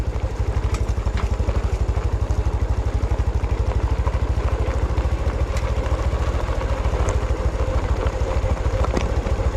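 A Thor 125 motorcycle idles nearby with a steady, even low-pitched putter, its rapid regular firing pulses continuing unbroken throughout, with occasional faint clicks over the running engine.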